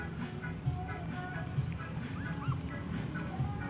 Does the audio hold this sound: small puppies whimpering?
yes